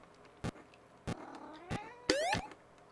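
A pet cat complains with several short, sharp vocal bursts spaced about half a second apart, ending in a longer, wavering meow, close by in a quiet room.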